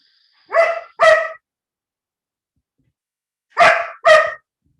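A dog barks in two pairs of sharp, loud barks separated by a few seconds of silence, close by, with no talking over them.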